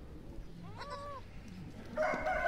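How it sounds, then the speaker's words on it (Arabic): A milk-producing dairy goat in a pen bleats with a wavering cry near the middle, followed by a louder, harsher burst at the end over faint background noise. "هادي راه من احسن المعزات اللي عندي هنا في القاطع، معزة منتجة للحليب"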